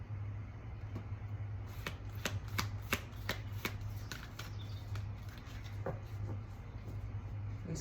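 New, sturdy tarot cards being shuffled: a run of crisp, rapid riffling clicks in bursts over a steady low hum, close by and with no voices.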